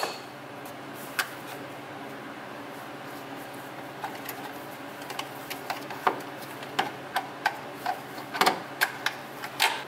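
Center punch struck with a hammer to drive a dowel into a BMW 5L40E transmission, a series of sharp metallic taps that speed up toward the end over quiet background.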